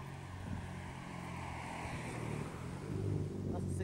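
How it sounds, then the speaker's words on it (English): A car's engine rumbles past on a street in Manchester, growing louder toward the end, while people talk nearby. "That's a sick car"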